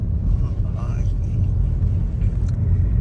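Low car forced to drive off-road over very deep potholes, giving a steady, loud engine and road rumble with bumps throughout, a voice faintly audible over it.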